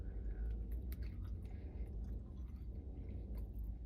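Chewing Trader Joe's salami, with soft, moist mastication sounds repeating steadily and close to the mic, plus a few faint clicks over a low background rumble.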